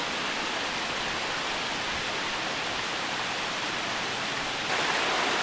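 The east branch of Dugway Brook rushes steadily through a culvert, giving a loud, dense, unbroken roar of flowing water with no pauses.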